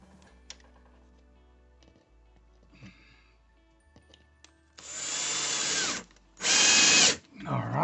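A power drill drives bolts into a mini split air conditioner mount in three loud, close bursts, the first long and steady, the last two shorter and sharper, after quiet handling noises.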